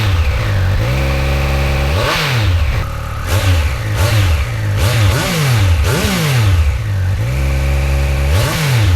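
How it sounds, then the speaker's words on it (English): A Triumph motorcycle on its stock exhaust revs repeatedly at a standstill, each throttle blip rising and falling in pitch, loud and close with a rough mid-range engine note and no talk. "today we're stuck with the stock exhaust on a Triumph"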